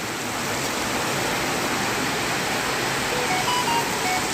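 Rain falls onto a mobile phone outdoors in a downpour, giving a close, loud, even hiss of water that holds steady for a few seconds with no speech.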